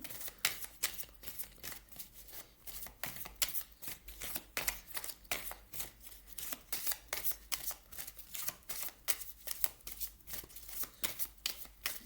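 Lise Bartoli light oracle cards are shuffled over and over close up, giving quick rhythmic riffling bursts with short pauses between them, fairly quiet and with no voice.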